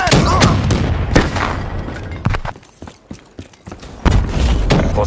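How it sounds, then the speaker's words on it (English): Grenade blast amid heavy gunfire in Black Ops III multiplayer, with loud sharp bangs and booming impacts scattered across the clip, dense combat noise around them and faint in-game voices. "Grenade!"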